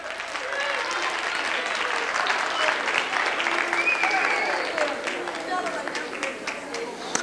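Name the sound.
applause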